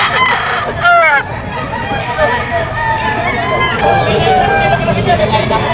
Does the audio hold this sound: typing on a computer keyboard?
no